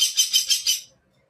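A green pineapple conure in a breeder pair, kept in a 2.5-foot cage, gives five quick, loud, shrill calls close by, then falls silent.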